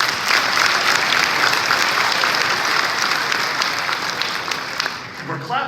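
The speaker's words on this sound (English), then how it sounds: "We're clapping" A hotel convention audience at a Comfort brand session applauds, a loud, full crowd of clapping hands that holds steady and then thins slightly toward the end.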